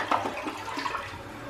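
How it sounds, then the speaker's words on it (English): A household toilet, treated with grape juice as a cleaner, flushes with a loud close rush and gurgle of water that holds steady through the clip. "We're gonna go ahead and give this a good flush"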